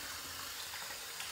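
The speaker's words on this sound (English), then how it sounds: "Let me wet the face and we'll get right to this shave." Cold water runs and splashes at a sink as a face is wetted before a shave, a steady close hiss of flowing water with no voices.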